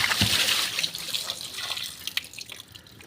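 Water scooped out of a fish tank and poured away, making close splashing and dripping sounds that trail into quieter trickles, with no voices.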